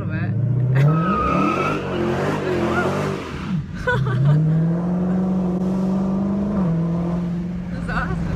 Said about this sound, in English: We did a nice little burn out there.